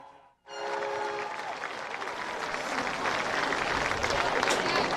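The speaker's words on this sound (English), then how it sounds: "Please join me in a round of applause for these guys." Applause for senior athletes, former linemen, at a sports gathering, rising suddenly after a short pause and continuing as a dense, steady wash of clapping for several seconds.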